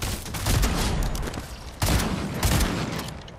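Rapid gunfire in a first-person shooter video game, dense bursts of shots in quick succession, a loud volley at the start and two more sharp bursts partway through, with no talking.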